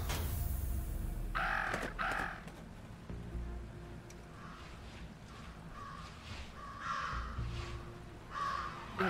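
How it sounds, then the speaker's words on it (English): Crows cawing in the video game Jenny LeClue, several harsh caws in irregular bursts over a steady outdoor ambience, moderately close and loud. "Talk about a murder of crows."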